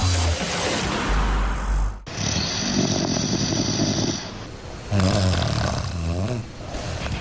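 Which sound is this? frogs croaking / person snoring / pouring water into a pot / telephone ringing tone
person snoring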